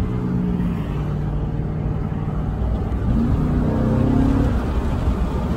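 A Chevrolet Silverado with a Vortec engine driving along a road, heard from inside as a steady loud engine rumble and road drone, with the pitch shifting slightly as it moves through the gears.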